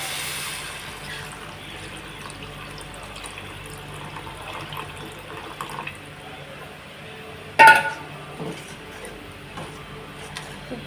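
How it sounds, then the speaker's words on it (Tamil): Tamarind water is poured into a pan of simmering fish curry, giving a steady, soft liquid pour with a brief clatter of a utensil near the end. Nobody talks. "புளி கரைசலை சேர்த்துக்கணும்."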